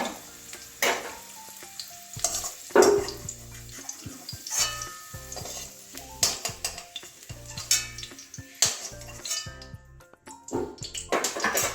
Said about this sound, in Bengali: আলুটাও ভাজা হয়ে গেছে লাল লাল করে ভেজে নিয়েছি